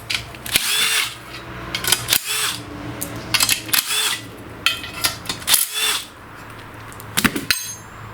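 A power drill removes the valve cover bolts on a dead lawn tractor engine being restored, in several short separate whirring bursts with brief pauses, close and fairly loud.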